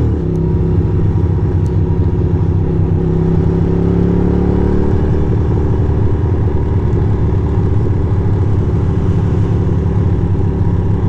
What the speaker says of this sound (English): It kind of like sounds like it's misfiring or something.